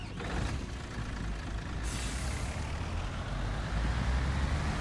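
A DAF XF truck in the Construction Simulator game gives a steady, deep engine rumble, and a sharp burst of air-brake hiss cuts in partway through.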